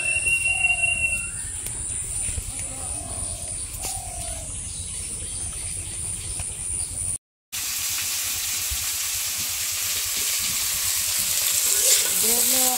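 Bitter gourd and potato fry in a pan with a steady dense sizzle, birds cooing and calling faintly nearby; after a brief dropout the frying returns louder and harsher.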